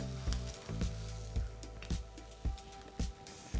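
An egg sizzles on a hot griddle alongside mushrooms and Iberian pancetta, a loud steady frying hiss broken by regular soft thumps roughly every half second.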